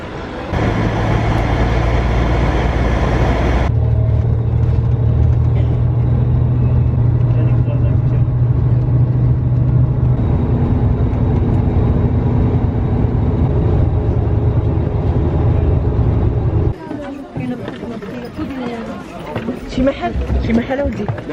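Bus driving on the road to Essaouira, Morocco, giving a steady loud engine drone and road rumble throughout, with a shift in tone partway and busier noise near the end.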